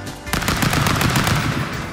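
Rapid gunfire from the party brawler Stick Fight keeps up a dense, steady stream of shots through the whole moment, loud and continuous, with no talk over it.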